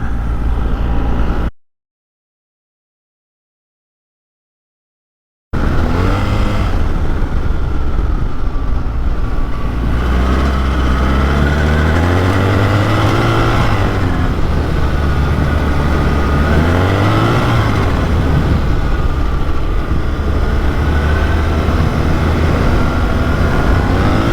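A BMW R 1300 GS Trophy motorcycle riding on the road, its engine droning steadily and loud with rising and falling revs through gear changes, plus wind rush, after a brief silent gap near the start.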